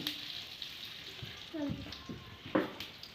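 Onions and chillies fry in oil in a wok on a gas stove, with a faint sizzle broken by a few soft scraping stirs and small clatters, fairly quiet overall.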